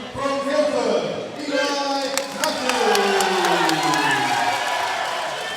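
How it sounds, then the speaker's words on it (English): Boxing arena crowd cheering and whooping for a debutant fighter from Guildford making his professional debut, a loud sustained roar with scattered shouts and a ring announcer's voice over it. "Big cheer for the debutant"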